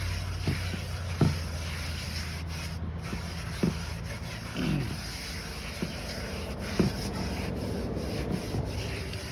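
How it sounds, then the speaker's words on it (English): A scouring pad scrubs a cast-iron Red Mountain series spider skillet during restoration, giving a steady, close, gritty rubbing with occasional sharper scrapes and knocks throughout. "So right now I'm just going to take a scouring pad."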